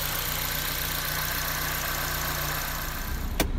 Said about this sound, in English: The best part about this right now is the idle is perfectly at about 900